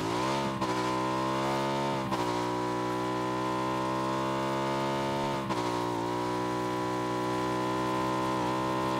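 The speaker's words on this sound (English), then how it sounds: "Buggy to my left." Buggy engine in PUBG, a steady droning motor holding a constant pitch with brief shifts as it changes gear, continuous and fairly close, no talk.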